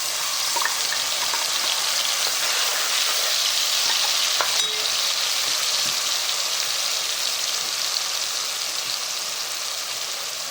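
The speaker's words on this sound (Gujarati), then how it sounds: "હવે આ મસાલો આપણે રેડી કરી નાખ્યો એ નાખી દેવાનું" A spice masala sizzles and fries in hot oil for a fish dish, a steady loud crackle filling the whole stretch, with a few faint clinks of stirring along the way.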